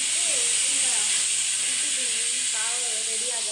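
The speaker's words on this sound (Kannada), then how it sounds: "ನಾನು ಬ್ರೆಡ್ನ ಫ್ರೈ ಮಾಡ್ತೀನಿ" Pav bread frying in a pan gives off a steady, loud sizzling hiss throughout, with a voice faintly audible underneath.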